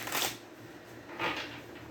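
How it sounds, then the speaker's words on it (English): Tarot cards being shuffled by hand, two brief crisp riffling bursts a second apart, close and quiet with no talking. "One more shuffle, because it feels like I need to."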